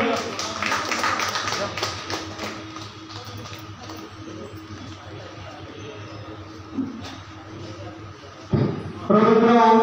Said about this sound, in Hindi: झिलाई जोरदार ताली के हो